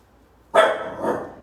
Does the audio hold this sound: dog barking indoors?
yes